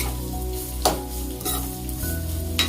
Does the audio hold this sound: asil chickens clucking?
no